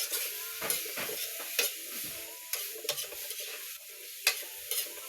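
A salted dish is stirred in a sizzling pan, with a spoon scraping in repeated close strokes over a steady frying hiss, and no talk.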